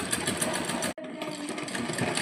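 Sewing machine running close and loud as it double-stitches a belt, a steady mechanical whir with one brief stop before it starts stitching again.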